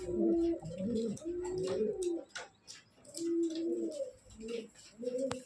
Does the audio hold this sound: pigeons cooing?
yes